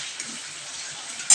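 Bay leaf and green chili frying in hot oil in a pan, giving a close, steady sizzling hiss with a brief sharper flare near the end.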